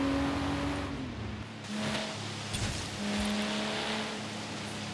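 A Nissan Skyline GT-R R34 in the Forza Horizon racing game revs and holds steady engine tones with a raspy, loud exhaust note and faint tire noise, with no talking.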